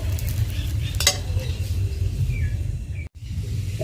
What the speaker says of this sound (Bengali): তো তাই আমি গাজরগুলো একটু ভেজে নিলাম।